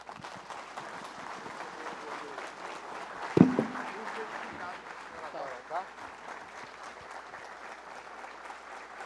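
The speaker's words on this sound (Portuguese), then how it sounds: "E os companheiros aplaudem de pé" A standing audience at a lecture by Brazil's science and technology minister applauds in a sustained, moderately quiet burst, with one sharp nearby knock and a voice faintly heard under the clapping.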